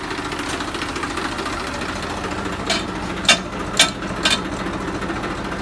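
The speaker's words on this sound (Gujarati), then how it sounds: "દાદા ટ્રેક્ટર છોડે છે લારી હારે" A tractor engine idles steadily at a farm with a trailer hitched on, producing a continuous rough, knocking chug. A few sharper metallic clanks sound over it midway.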